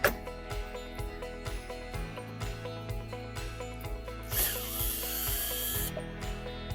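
A screwdriver works a screw out of a pool pump capacitor, giving close, quiet repeated ratcheting clicks and scraping turns, with a brief louder metallic rub near the end.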